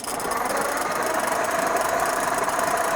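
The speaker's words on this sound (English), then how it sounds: "The solenoid makes a funny noise." A starter solenoid on a 1949 Ford F1 barn-find truck buzzing and whirring steadily for about three seconds, close and continuous, with no talking.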